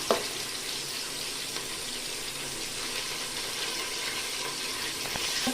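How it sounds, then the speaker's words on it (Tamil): Onions sizzle steadily in a hot pan, a soft continuous crackle with occasional louder pops, no voices. "இப்போ இதை நல்லா பொன்னிற அளவுக்கு நம்ம நல்லா வதக்கிடணும்."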